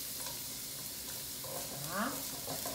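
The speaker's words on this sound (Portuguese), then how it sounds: "eu vou colocar uma colherinha de óleo, só para a gente refogar o alho que deixamos picadinho" Finely chopped garlic sautéing in a spoonful of oil in a pot, a soft, even hiss with no breaks and a faint voice briefly underneath.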